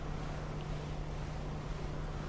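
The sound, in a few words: hovercraft engine thrust in a vehicle sandbox video game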